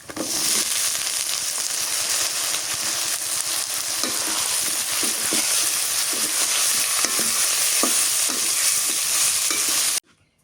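Potatoes sizzle in a frying pan of rohu fish curry and are stirred, with a loud, steady crackling fry and repeated scraping and clinking of the spatula until the sound cuts off abruptly at the end.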